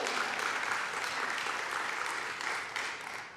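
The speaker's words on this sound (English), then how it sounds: "Yes, applause, thank you." Audience applause at a literary awards ceremony, a steady broadband wash of clapping from a crowd that holds evenly for about three seconds before tapering slightly at the end, with no talking over it.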